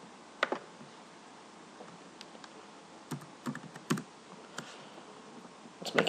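Scattered keystrokes on a computer keyboard, a handful of quiet clicks in short irregular bursts separated by pauses, close but faint.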